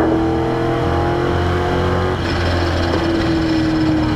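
Race cars on a track roar in a sustained, loud engine drone with steady whining tones, shifting pitch midway as one car passes another close by.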